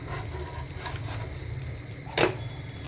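Bread sandwich frying in butter in a pan on a low gas flame, a soft steady sizzle with faint crackles and a brief louder scrape partway through as it is turned over.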